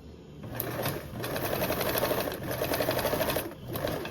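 A sewing machine runs close by, stitching the sides of a toiletry bag with a narrow 1/8 inch seam allowance. Rapid, even needle chatter in long runs is broken by brief pauses.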